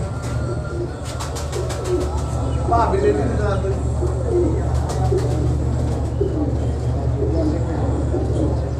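Pigeons coo softly in a low, throaty rhythm amid steady background hum, with some brief chirps and rustling, at a pigeon market in Shalimar Bagh, Lahore.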